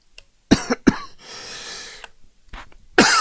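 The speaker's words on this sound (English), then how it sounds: "Damn, I hate that cough." A man coughs several times in a sharp, close burst. A breathy pause with a wheeze follows, and then one more loud cough. No one speaks over it.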